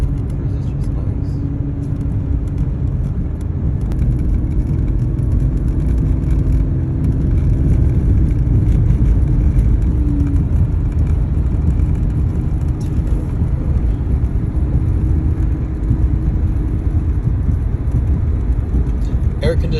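A 1991 Buick Skylark Luxury edition cruising down the road, its steady low engine and road rumble running continuously throughout with little change in level.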